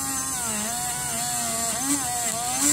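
Dremel rotary tool fitted with a wire brush, lightly scrubbing a fossil megalodon tooth; a high, close whine with a wavering pitch that dips and rises under slight pressure, continuous and fairly loud, without talking.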